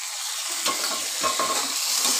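Large prawns dropped into a pan of browned onions and frying, a dense hiss of oil with a couple of soft stirring thumps, close and steady, no talking.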